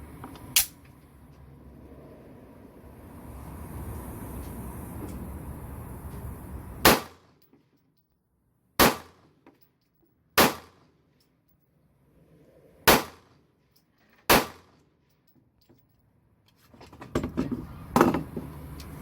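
H&K USP Compact pistol fired on an outdoor range: five sharp, loud single shots spaced a second or two apart, each with a short decay, following a stretch of background noise and ending with faint activity.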